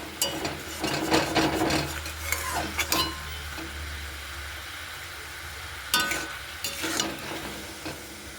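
Sugar melting and bubbling down in a pan for a chutney, a soft steady sizzle with stirring scrapes and a few louder clatters near the start and around six seconds, no voices.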